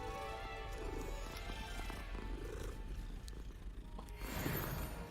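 A calico cat purring while being petted in a video game, a continuous low, rumbling purr, close and soft, running steadily throughout with faint background sounds and no talking.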